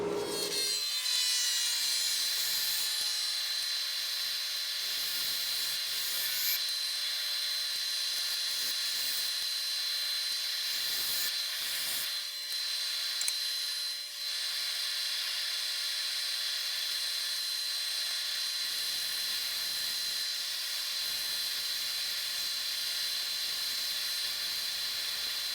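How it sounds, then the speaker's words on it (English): A woodturning gouge is sharpened for work on a cracked cherry bowl, producing a steady, continuous high grinding hiss with a faint whine that runs for the whole stretch, with brief scraping changes as the tool is repositioned, no talk. "I think I'm going to go sharpen up and then do that with gouge"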